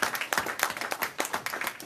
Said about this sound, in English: Let's give our brother ancestor a round of applause.